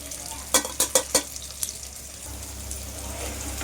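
Paneer and vegetables frying in oil in a pan, with a few sharp stirring clatters early on and then a steady, soft sizzle running alone to the end.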